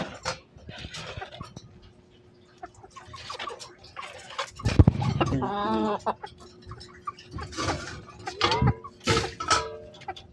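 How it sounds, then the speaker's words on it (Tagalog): A mother hen clucking intermittently nearby, with a louder run of calls midway, amid scattered background noise and some talk. "Ating inahin."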